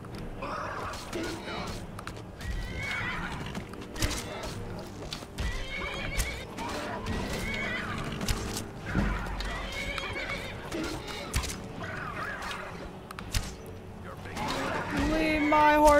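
In Skyrim, a horse neighs and whinnies repeatedly while hooves clop nearby, the calls loud and close and rising in bursts over a continuous low background.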